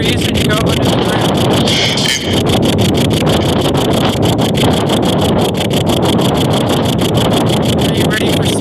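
Strong wind blasts across the microphone in a snowy cemetery, a loud, continuous buffeting roar that holds steady with no pauses.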